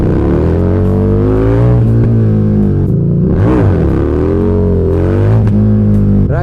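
A Harley-Davidson motorcycle with an aftermarket exhaust revs hard, a loud, close, deep rumbling engine whose pitch rises and falls through several throttle blips, riding in Naples.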